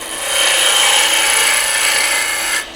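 A spindle gouge, worked like a roughing gouge, cuts into wood spinning on a lathe while turning a small wooden snowman, making a steady, loud, close scraping hiss that runs for over two seconds before cutting off.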